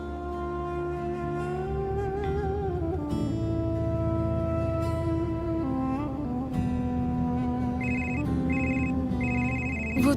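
A phone ringtone plays through as an incoming call goes unanswered, a bright melodic tune with layered tones that loops steadily for about ten seconds, loud and clear with no voices over it.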